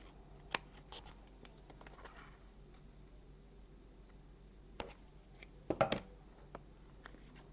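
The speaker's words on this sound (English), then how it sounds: "These little ones I think I'm going to have to cut." Scissors cut small foam squares, heard as a few faint, quick snips with light paper-handling rustle in a quiet room.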